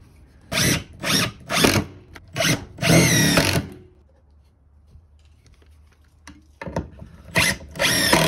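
Power drill driving lag screws into 2x4 lumber: several loud, separate bursts of whirring drive, each about half a second to a second long, then a pause and more bursts near the end.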